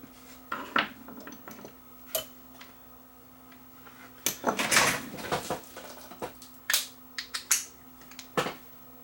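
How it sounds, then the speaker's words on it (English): Screws driven back into a Nakamichi BX100 cassette deck with a magnetic screwdriver, producing small irregular clicks, taps and scrapes up close in a quiet room, with no talking. "This is a magnetic screwdriver, so I'm using this one."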